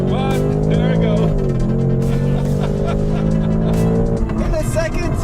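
A cheap V8 Ford Mustang accelerates hard through the gears, its engine note loud and rising in steady pulls with shifts between, someone talking over it throughout.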